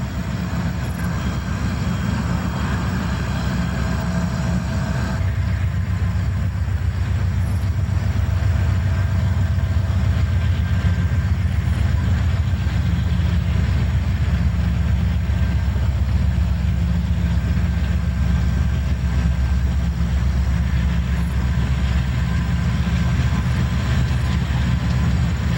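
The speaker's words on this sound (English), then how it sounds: "southbound Conrail number 6066 heads through the rugged Pennsylvania countryside" Southbound Conrail freight train number 6066 on the Monongahela Railway rolls through rugged Pennsylvania countryside, a loud, steady rumble and roar that holds for the whole stretch with no talking.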